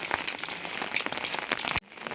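Steady heavy rain in Uttarakhand, a dense patter of drops on surfaces close by that cuts off abruptly near the end.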